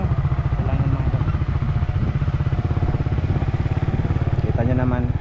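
A motorcycle engine runs steadily up close with a rapid, even chugging pulse and some rattling clatter, and brief talk comes in near the end.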